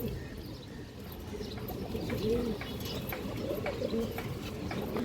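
Many pigeons in a loft coo in low, rolling calls close by, layered over a busy background of faint chirps, wing rustles and a murmur of voices.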